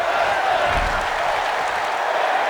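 Wrestling crowd at an SCW Showdown event cheering and applauding steadily, a dense wash of clapping and voices filling the whole stretch at even loudness.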